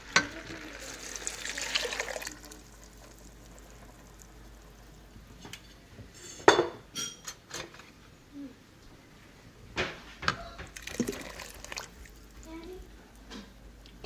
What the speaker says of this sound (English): So now we're going to add our tomato juice.